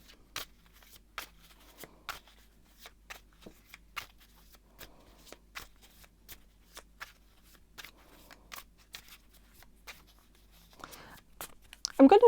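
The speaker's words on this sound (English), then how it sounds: "I'm going to shuffle and see what the cards have to say." Tarot cards being shuffled by hand, a series of short crisp riffling snaps repeating steadily at close range, quiet overall, with a louder burst of handling noise at the very end.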